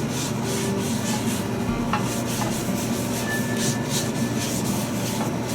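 Oil is rubbed over a hot pan or griddle before cooking pupusas, making a continuous close scraping and rubbing texture over a steady low background hum, with no talking.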